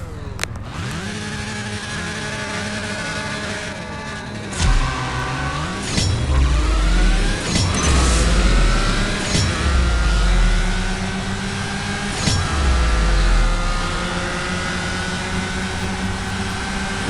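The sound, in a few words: Nissan GTR engine revving in the video game CSR Racing 2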